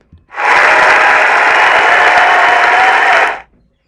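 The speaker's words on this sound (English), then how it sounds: "Let's give her a big clap." Loud, dense clapping from pupils and staff at a school celebration assembly, a sustained burst of about three seconds that starts and stops abruptly.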